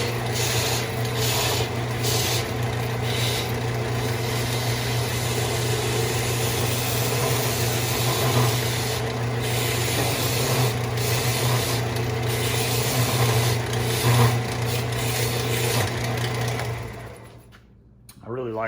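A Harbor Freight 4x36-inch belt and 6-inch disc sander runs with a loud, steady motor hum and continuous abrasive grinding of a workpiece, holding for most of the span before winding down near the end.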